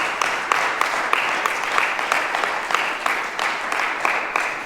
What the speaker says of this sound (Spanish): ¿Por qué no damos un fuerte aplauso a Cristo,